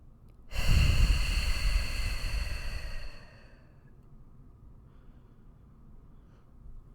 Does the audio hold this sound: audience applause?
no